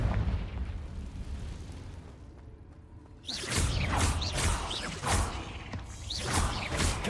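A Confringo blasting spell goes off in Hogwarts Legacy inside a cave, a sudden loud eruption with whooshing, rumbling bursts after a quieter low rumble, repeated swells of blast noise.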